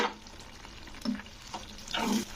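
A curry with cashew paste being stirred in a pan, soft sizzling under a few distinct scraping strokes of a spoon, fairly quiet and close.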